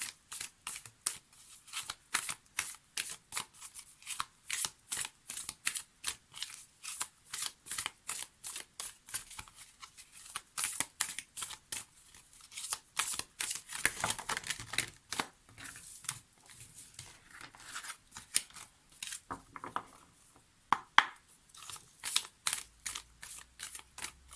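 A deck of oracle cards is shuffled over and over in a quiet room, with a steady run of crisp, close riffling flutters and taps that varies slightly in pace and keeps going for the whole stretch.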